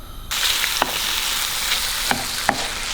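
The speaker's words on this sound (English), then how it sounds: "if we keep the meat moving, and as you saw there, it starts to turn white" Raw meat stir-frying in a hot pan for Thai green curry, a loud continuous sizzle close up with a few sharp scrapes and clicks of the utensil as the pieces are kept moving.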